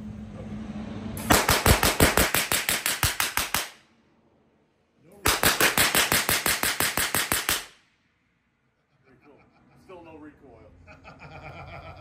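A propane-oxygen prop .50 BMG machine gun fires two rapid bursts of about two and a half seconds each, a dense loud rattling roar of sharp pops, with people talking quietly afterward.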